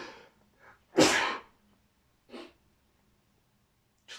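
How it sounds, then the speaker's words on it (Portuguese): A single sharp, loud sneeze bursts out close to the microphone, preceded by quick inhaled breaths and followed by a softer snort-like exhale in an otherwise quiet room. "Vou espirrar, peço desculpa."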